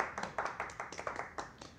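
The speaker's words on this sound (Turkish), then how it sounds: "Kuvvetli bir alkış istiyoruz" A small group claps at a family celebration, giving a quick run of close, uneven hand claps at modest volume with faint voices beneath.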